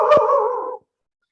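A storyteller's voice imitates a cat with a single drawn-out meow, loud and close, that ends abruptly into silence.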